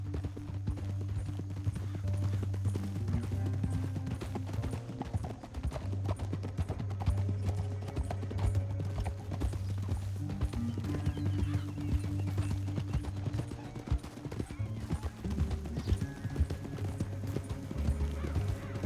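Horses galloping in the Red Dead Redemption 2 video game, a steady loud clip-clop of hooves running throughout with occasional whinnies over game ambience.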